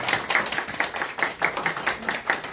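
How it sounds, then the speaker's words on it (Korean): Congregation members at a church service clap together in a quick, steady rhythm of sharp hand claps, close and fairly loud, with no talking over them. "박수를 한번 하겠습니다."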